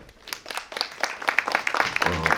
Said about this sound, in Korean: 오늘 초대 작가로 모신 안도현 시인님을 뜨거운 박수로 모시겠습니다.